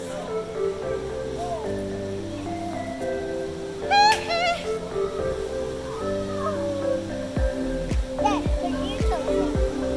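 Hidden Falls waterfall in Curt Gowdy State Park pours as a steady wash of falling water beneath people talking nearby, with a voice and a few splashes rising above it.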